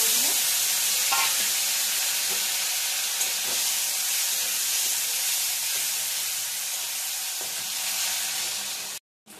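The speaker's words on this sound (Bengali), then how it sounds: "জিরে ফোড়ন দিয়ে এর মধ্যে টমেটো কুচিটা" Chopped tomato dropped into hot oil with a cumin tempering, a loud, dense sizzle and hiss with steady frying crackle, a few stirring clinks, cutting off abruptly at the end.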